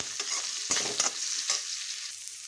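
Finely chopped onions with green chillies and curry leaves frying in oil for egg pulusu, a steady bright sizzle broken by a few scraping stirs of a spoon in the pan, with no talking.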